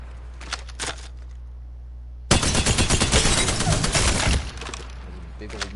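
A burst-fire gun in Apex Legends fires a dense, loud run of rapid shots lasting about two seconds, preceded by a few fainter pops and followed by quieter trailing shots.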